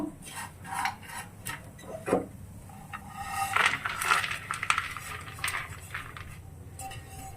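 A metal spoon scrapes and clinks against a pan while fried dry fruits are lifted out of hot ghee for sheer khurma; the taps come as close, irregular bursts over a low background.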